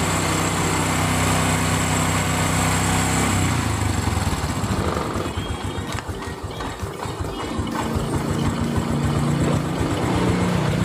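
A Honda Karisma motorcycle engine idles steadily and loud up close during carburetor adjustment, its tone briefly dipping and roughening mid-clip as the idle speed is turned down, then recovering to a constant hum.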